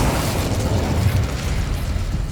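Fiery Incendio spell cast in the video game Hogwarts Legacy: a dense, roaring burst of flame with a heavy low rumble that stays loud and sustained for a couple of seconds, with no talking.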